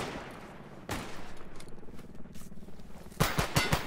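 Machine gun fire during a firefight in the video game S.T.A.L.K.E.R. GAMMA: a single loud shot, then a rapid burst of several close, sharp cracks near the end over a busy background.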